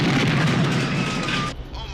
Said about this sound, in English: someone's bombing the precinct house